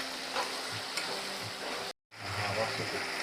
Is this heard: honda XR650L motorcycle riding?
no